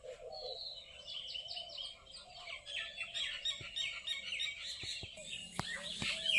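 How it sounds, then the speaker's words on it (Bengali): A lively chorus of many kinds of birds chirping and trilling together in neem trees, steady throughout with a few sharper calls near the end. "কত রকম পাখিদের কলরব"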